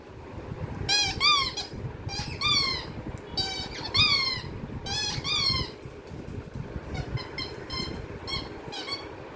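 A dog plays with a squeaky toy, producing bursts of sharp, high squeaks in quick clusters with short pauses between them, fairly close over faint background noise.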